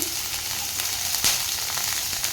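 Spring onion greens tossed into a pan with sautéed garlic for egg fried rice, sizzling steadily and loudly up close, with a brief sharper crackle midway.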